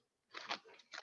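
Potato chips crunch on a lobster roll being bitten into, a few close, sharp crackly bursts over about a second in a quiet room.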